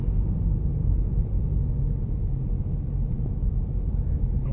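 A police car rolls past in slow traffic near a crash scene. It makes a steady, loud low rumble of engines and road noise with no siren and no voices.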